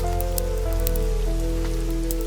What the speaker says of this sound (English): steam rising as rain drummed the canvas roof